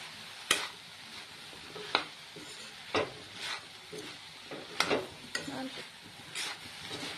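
Turmeric and spices being stirred in a frying pan (kadai), heard as a quiet background sizzle punctuated by a handful of sharp scrapes and clinks of the spatula against the pan, no voices.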